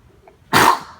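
A single sharp sneeze bursts out after a brief near-silent pause, close and loud.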